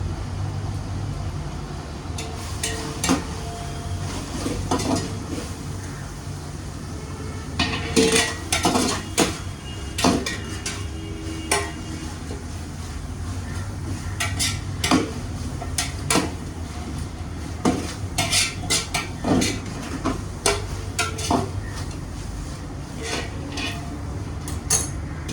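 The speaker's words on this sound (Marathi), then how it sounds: "मसाले आता ॲड करू. त्याबरोबर कांदा सगळं एकत्र फ्राय करून घ्यायचं आहे." Metal utensils clatter and scrape against a pan while onion and spices fry, giving irregular clinks and knocks over a steady low background hiss throughout.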